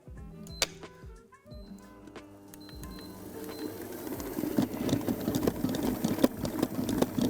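An electric mixer beats cheesecake batter at a slightly higher speed, a steady mechanical whir with rattling and clattering in the bowl that grows louder and busier over the clip, with no talking.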